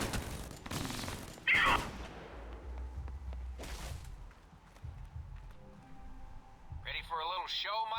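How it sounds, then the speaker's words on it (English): Fireworks burst repeatedly in the video game Alpha Protocol, a run of sharp cracks and rumbling booms in quick succession. A voice speaks near the end. "The noise from those fireworks should cover the sound of gunfire."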